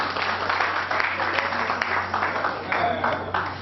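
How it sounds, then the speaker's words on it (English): Steady audience applause at a Martin Luther King Jr. Day event, a continuous wash of clapping with scattered louder claps and a faint voice underneath. "Please round of applause"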